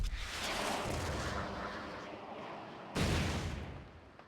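Enemy gunfire in the Oni action video game: dense, rumbling bursts of shots forming a continuous barrage, with a sharp fresh volley near the end, loud and without talk.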